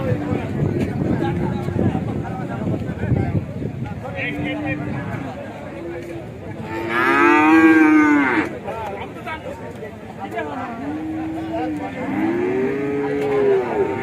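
Cattle at a busy livestock market give several loud, drawn-out moos, one especially strong in the middle and more toward the end, with people chatting and market hubbub running underneath throughout.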